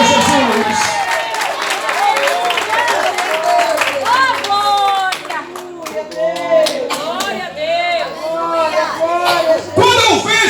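A church congregation claps along during a worship service, rhythmic hand claps mixed with singing voices and crowd noise, some cheering rising at moments.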